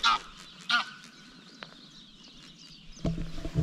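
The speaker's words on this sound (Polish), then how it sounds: "Gąski też się witają." Geese at a swamp honk loudly nearby: two single calls about a second apart, then a busier cluster of overlapping honks near the end, with quieter bird chatter in the background.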